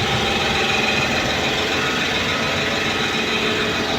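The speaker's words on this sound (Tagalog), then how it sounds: "Maingay lang yung compressor." An air compressor runs continuously with a dense, loud mechanical rattle and hum that stays even from start to finish, with no talking.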